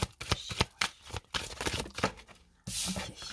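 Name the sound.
tarot cards being handled and drawn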